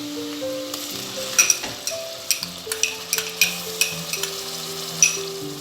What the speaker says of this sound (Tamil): இஞ்சி பூண்டு கொஞ்சம் வாசம் போகிற வரைக்கும் வதக்கணும்.